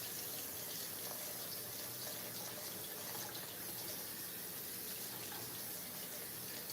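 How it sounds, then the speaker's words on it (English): Water runs steadily into a kitchen sink as cooked lentils are drained for a vegan lasagna. It makes a soft, even hiss that stays faint and continuous throughout. "drain the lentils"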